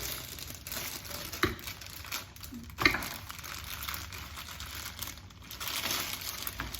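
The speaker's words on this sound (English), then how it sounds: "So I'll just unwrap her." A metallic-edition Barbie doll is unwrapped from its plastic wrapper, giving soft, continuous crinkling and rustling up close, with a few sharper crackles along the way.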